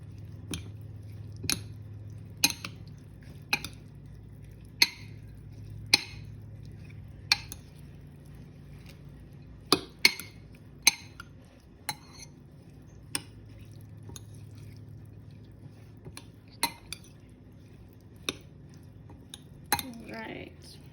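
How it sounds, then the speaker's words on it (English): A spoon mixing bruschetta topping in a bowl, producing repeated sharp clinks against the bowl in an irregular rhythm with soft squishy stirring between them, close up, with speech around it. "grab a spoon. I'm just gonna mix this guy right on up"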